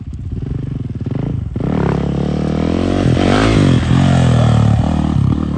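A motocross bike revs hard close by, its engine note climbing and swelling in rising sweeps as it speeds up. The roar is loud and continuous, with no talk.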